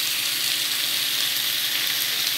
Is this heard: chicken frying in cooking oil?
yes